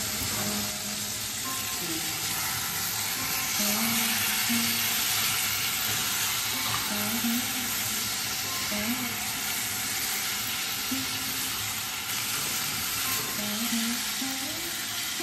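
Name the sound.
chicken frying in spice masala in pan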